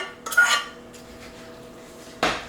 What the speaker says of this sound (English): I'm going to take these liquid ingredients and just mix it all in there.